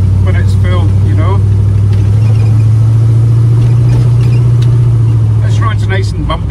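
A 1936 Chevy car drives along a bumpy road, a loud steady low engine drone and road rumble running throughout, with people talking over it.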